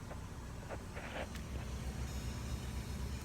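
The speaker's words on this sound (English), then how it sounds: "My car sounds amazing." A Chevrolet Malibu car engine running after a DIY repair, a steady low idle hum with a few faint higher clicks early on, heard close and alone.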